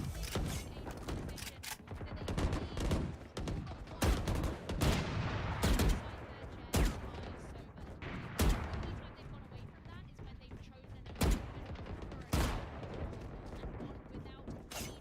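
Gunfire in Valorant during a professional VCT semifinal match, with repeated sharp shots and short bursts spread across the stretch, heard under excited commentary.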